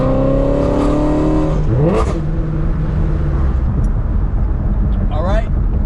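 Shelby GT350 Wide-Body with a Kooks exhaust in the Malibu Canyons, loud and close, rising in pitch as it revs and then holding a steady drone, with a second rev sweep near the end.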